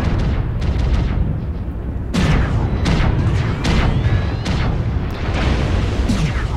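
AC2 autocannons fire in the MechWarrior Online beta video game, loud repeated booming shots with sharp bursts throughout amid battle noise and no talking.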